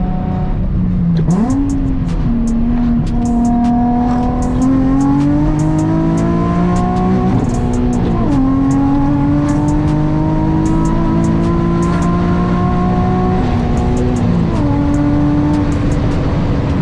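A Nissan 350Z HR with a single-exit exhaust revs up hard through several gears in winter with a cold transmission, its pitch climbing and dropping at each shift, loud and close.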